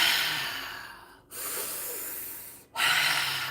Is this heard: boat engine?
no